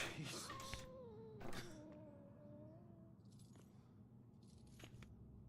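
A cat in the video game Murdered: Soul Suspect gives a couple of drawn-out meows early on, fairly faint and set against quiet game ambience and scattered clicks.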